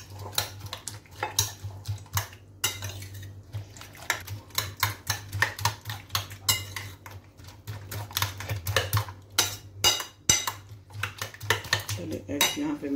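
Eggs with green chillies, black pepper and salt being whisked in a bowl, a rapid run of sharp clinking taps of utensil against the dish, close and fairly quiet, with a low steady hum underneath.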